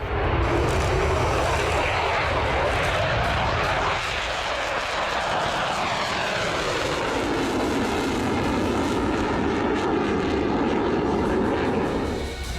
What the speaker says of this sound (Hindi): दूसरी तरफ आसमान से टोह लेते फाइटर जेट की गर्जना